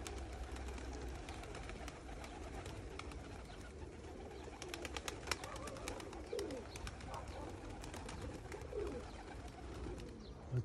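Young pigeons coo steadily in a loft, low repeated cooing murmurs layered over one another with scattered wing flutters and light clicks, continuous and close throughout.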